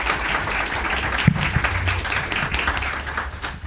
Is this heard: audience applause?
yes